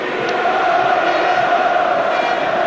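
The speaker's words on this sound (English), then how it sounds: "not one dissenting voice inside the stadium" Steady roar of a stadium crowd at a Manchester United versus Celtic testimonial football match, a continuous dense wash of voices and cheering with no breaks.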